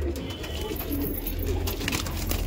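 Pigeons for sale, black and red birds of Indian high-flyer breeds, coo nearby with soft repeated calls over a steady low hum and background bustle.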